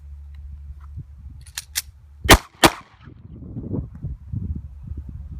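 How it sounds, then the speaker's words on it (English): Two sharp handgun shots fired in quick succession from a concealed-carry draw at a 9-foot line on a shooting range, loud and close, followed by a low background rumble and shuffling. "Draw and fire 2 rounds. Ready, fire."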